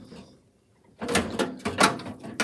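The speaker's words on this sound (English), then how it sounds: "that'll let you slide your drawer right out" A metal drawer of a vintage three-drawer Craftsman tool box slides out with rough scraping and rattling bursts, close and fairly loud, after a quiet moment.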